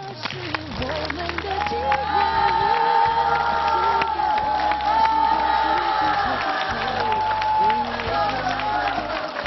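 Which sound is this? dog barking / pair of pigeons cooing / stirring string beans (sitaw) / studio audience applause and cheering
studio audience applause and cheering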